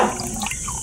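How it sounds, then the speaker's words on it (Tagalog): Water is drained from a guppy breeding tank, heard as a short, close splashing and trickling pour with no voices. "So bawasan na natin ng tubig."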